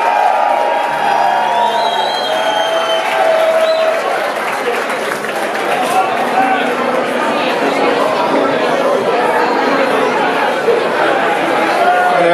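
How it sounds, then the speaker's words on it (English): Large concert audience at Irving Plaza applauding, cheering and whooping after a singer's introduction, a loud continuous roar of clapping and crowd noise with shouts and chatter throughout. "I want a big round of applause."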